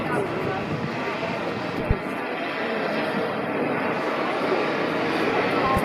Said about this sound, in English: Where's the drone?